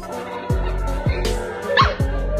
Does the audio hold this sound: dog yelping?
yes